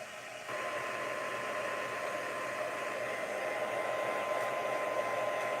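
A hair dryer blows steadily to dry acrylic paint, a constant whooshing drone that starts abruptly and holds at an even, moderate level throughout.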